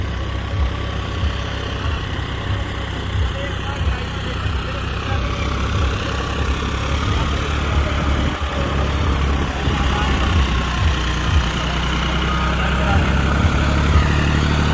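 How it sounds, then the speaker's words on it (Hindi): Tractor engine turning over steadily in low third gear during a pulling contest, a deep, pulsing mechanical thrum with a regular low beat, holding close and fairly loud and building slightly toward the end. "लो के तीसरे में ही घूम रहा है ट्रैक्टर"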